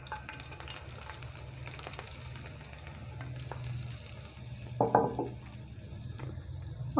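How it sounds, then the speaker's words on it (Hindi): Hot tadka tempering poured over Lahori dahi phulki gives a sudden close sizzling burst near the middle that fades quickly, over a low steady kitchen hum. "ये तड़का डाल देंगे।"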